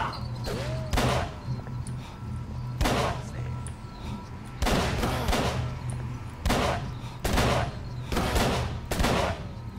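Repeated bursts of gunfire aimed at enemies in the horror game Call of Cthulhu: Dark Corners of the Earth, loud, sharp volleys arriving in irregular clusters a second or two apart, with no voices over them.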